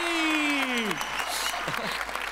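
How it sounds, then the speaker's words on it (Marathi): Audience applause on a Marathi comedy stage show, a loud wash of clapping under a falling musical tone and scattered cheering, close and continuous through the short moment. "जोरदार टाळ्या उर्मिला कारंजकरांसाठी"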